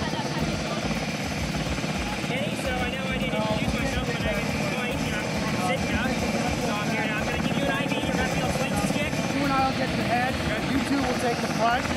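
A Coast Guard rescue helicopter's rotor and engine thump and whine steadily and loudly at a logging accident scene in Alaska, continuous throughout while people talk over the noise.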